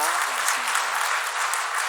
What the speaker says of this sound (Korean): 우리 세가족 오셨는데 박수로 환영하도록 하겠습니다.